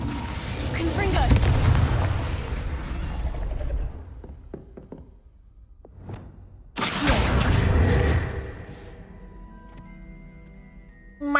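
Confringo fire blast spell cast in the Hogwarts Legacy video game: a loud booming burst with a sharp explosive onset, followed by a crackling, rumbling tail and game sound effects, with a brief lull before it.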